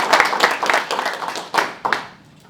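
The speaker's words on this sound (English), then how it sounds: "please give applause to Christian, who just walked in the room" The audience at the opening session of an angel investor summit bursts into brisk applause with uneven claps, then it tapers off and fades out near the end.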